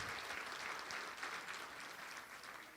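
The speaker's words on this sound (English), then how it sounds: "including Bob Powers, who deserves a special round of applause for the job that he's done" Steady applause from a dinner crowd at a Wichita State 50th Final Four basketball reunion, a sustained wash of clapping filling the room at moderate distance with no voices over it.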